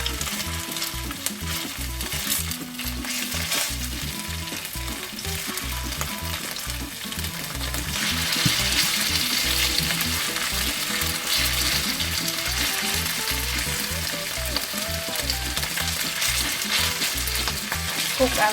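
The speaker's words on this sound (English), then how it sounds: "it is preferably to sear the beef in 2 separate 200 grams" Beef portions sear in a pan with a tablespoon of oil, a loud continuous sizzle with stirring and scraping close by that grows slightly stronger partway through.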